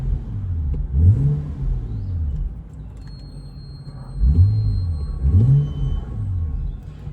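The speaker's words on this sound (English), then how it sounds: "If we just give it a bit of a rev." A 2015 BMW M235i manual coupe with a 3.0-litre engine revs several times, giving rising and falling engine sweeps over a low idle rumble, close and fairly loud, with no voices.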